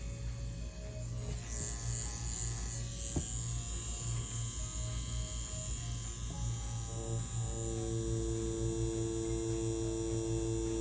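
An Inkball Challenger tattoo machine buzzes steadily and loudly while tattooing in navy blue ink, a continuous electric hum with a constant pitch that never stops across the whole stretch, with no talking over it.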